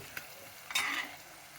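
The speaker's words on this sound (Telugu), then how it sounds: "ఇది ఉల్లిపాయలు ఎర్రగా వేగాలి అన్నమాట" Chopped onions and tomato hit a hot pan for bisibele bath (sambar rice): a brief stir clink, then a sudden close sizzle that settles into a steady frying hiss, with no voices.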